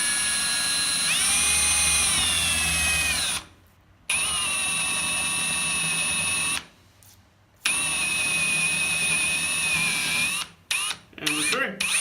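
A power drill whines steadily at high pitch while boring through tile, cutting out briefly twice and sputtering in short bursts near the end, close and loud.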